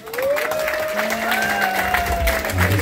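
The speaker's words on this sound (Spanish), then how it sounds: "un fuerte aplauso, por favor." Crowd applause at a baptism party fills the room steadily, with cheering voices and a sustained tone running over the clapping.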